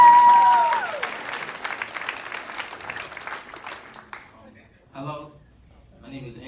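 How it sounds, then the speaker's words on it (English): Gala audience applauding in a large room, a dense wash of clapping that fades out over a few seconds before a voice begins speaking. "so give yourselves a round of applause."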